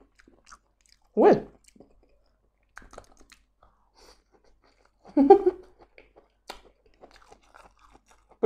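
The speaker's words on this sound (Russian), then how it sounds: "прикольно на зубах хрустит" Two distinct bursts of crunchy chewing on Korean-style coral mushrooms, a few seconds apart, close to the ear against near silence.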